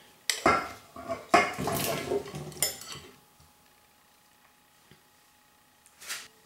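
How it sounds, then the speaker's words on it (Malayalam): Chopped vegetables for a Malabar varutharacha sambar being tipped and clattered into a metal pressure cooker, several close clanks and scrapes of metal over a few seconds, then quiet with a final knock. "ഇത്രേ സാധനങ്ങൾ ഞാൻ ഈ കുക്കറിനകത്തോട്ട് ചേർക്കുകയാണ്"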